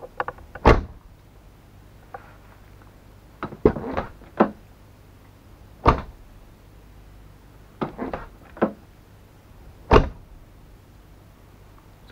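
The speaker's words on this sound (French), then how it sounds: "on va tester le bruit de la porte" A car door fitted with door dampers shuts repeatedly: sharp, fairly muffled thuds spaced a couple of seconds apart, close by, against a low steady hum.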